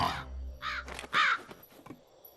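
A cartoon crow in a Hindi Mowgli comedy cartoon caws several times in quick, harsh bursts, loud and close, with no talking over it.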